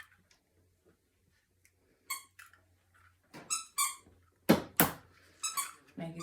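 Sharp, bright squeaks from a new pet toy being chewed, starting faint then coming in a rapid series of loud, close bursts in a kitchen, with no talk.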